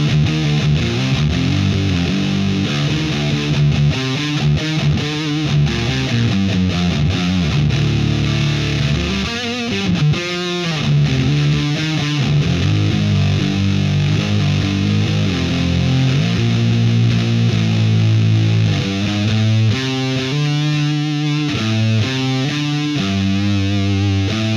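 Electric guitar played through a Peavey VTM 120 amplifier with a Frost Giant Mountain overdrive pedal switched on and gain at 7, a continuous loud, crunchy driven tone of chords and riffs lasting throughout without any talking.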